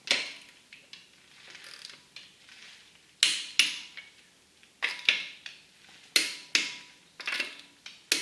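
A torque wrench tightens lug nuts on a Toyota Camry wheel, giving a series of sharp metallic clicks that arrive in uneven clusters, close and fairly crisp, with no talking.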